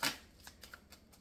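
Tarot cards shuffled by hand: a loud riffle burst at the start, then several softer, evenly spaced card flicks and taps, close and quiet, with no talking.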